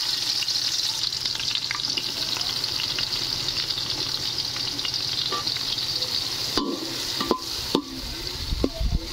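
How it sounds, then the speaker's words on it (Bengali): Sliced onions deep-frying in hot oil over high heat for chicken dum biryani, a continuous loud sizzle with stirring scrapes and a few sharp clinks of utensil on pan toward the end. "আমরা একই তেলতে পেঁয়াজের বেরেস্তা ভাজি নিব"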